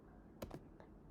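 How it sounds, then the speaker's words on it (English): A command is typed on a computer keyboard while working in Kali Linux. Three quick, faint key taps are heard in close succession over quiet background hiss. "So back at our UTM here I'm going to type the command"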